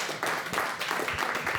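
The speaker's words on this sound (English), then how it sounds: "A round of applause for the Emerson Theater Collaborative." Audience applause for the Emerson Theater Collaborative at an art opening, a steady patter of many hands clapping, fairly loud and continuous.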